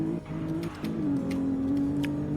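A Maserati Ghibli drives in a racing video game, its engine holding a steady drone that dips briefly and then climbs again, with faint tire noise over it and no talking.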